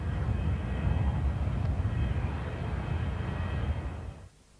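A Harrier jet flying a display at the 1992 Auckland Air Expo, its engine a loud, steady roar that holds for about four seconds before cutting off sharply.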